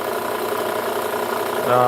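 Belt grinder fitted with a 120 grit belt running steadily while sharpening KitchenAid kitchen knives, a continuous motor hum and abrasive whir throughout, with a brief change in tone near the end as the blade contacts the belt.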